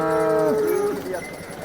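A single loud, close cow moo at a cattle market, with a long, drawn-out low tone that slides downward and fades, with no talking.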